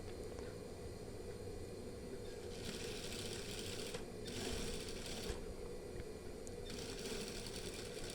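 A sewing machine runs steadily while stitching a batik shirt with lining, a continuous close mechanical whir with a few brief shifts in intensity and no talking.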